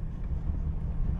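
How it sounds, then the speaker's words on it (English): Strong wind gusts on a dirt road beside a Jeep, a steady loud rumbling roar buffeting the microphone throughout with no pauses. "It is so windy! Super windy out."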